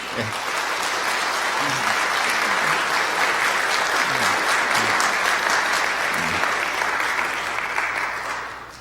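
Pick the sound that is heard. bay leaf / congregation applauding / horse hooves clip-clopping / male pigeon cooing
congregation applauding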